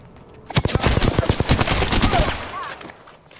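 Rapid automatic gunfire in a shooter video game, a loud close string of shots at a quick, uneven rhythm that tapers off near the end.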